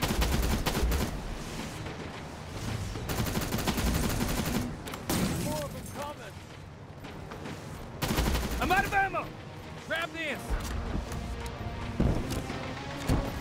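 Bursts of gunfire and heavy impacts in the Terminator: Resistance video game, loud and repeated over dense game sound, with a voice talking between shots.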